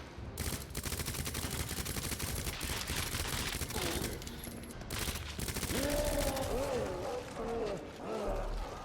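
Rapid SMG fire in Resident Evil 2 rattles in long continuous bursts against a creature, dense and loud, with a player's voice breaking in near the end.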